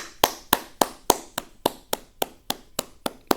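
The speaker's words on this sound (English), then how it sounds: "Round of applause for Pete Carroll." A single pair of hands clapping slowly and evenly, about a dozen sharp, close claps at a steady rhythm with no crowd and no talk.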